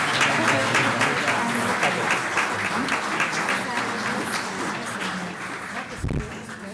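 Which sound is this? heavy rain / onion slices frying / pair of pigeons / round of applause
round of applause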